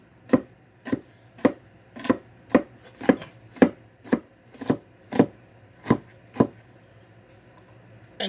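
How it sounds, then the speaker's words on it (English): Peeled garlic cloves being roughly chopped with a knife on a board, a dozen evenly spaced, close, crisp knocks at a steady unhurried rhythm, with no talk. "And now you just want to give it a rough chop."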